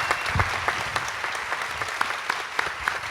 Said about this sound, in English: So a round of applause for this.